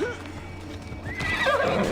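A horse whinnies loudly over rhythmic hoof clops in Assassin's Creed Odyssey, a short game-style neigh with galloping hooves.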